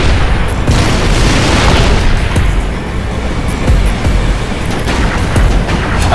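A loud, rumbling explosion in the video game Halo: Reach roars steadily and fills the whole clip, with crackling debris and low booming noise throughout.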